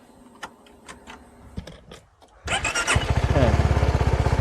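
A CF Moto 250SR motorcycle is cranked and fires up after a few clicks and button presses, then settles into a loud, close, fast-pulsing idle.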